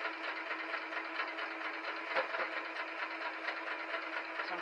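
A sewing machine stitches fabric pieces for a crumb quilt block, a steady continuous mechanical whir with fast needle rhythm running unbroken and fairly close throughout.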